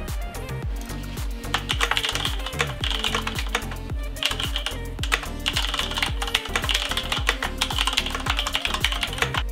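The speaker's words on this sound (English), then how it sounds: "this has Cherry MX key switches, and mine got red switch, so it gives good feeling, like clicky sound" Rapid, steady typing on a mechanical keyboard with Cherry MX red switches, keys clacking close and crisp in a continuous run of presses with no talking.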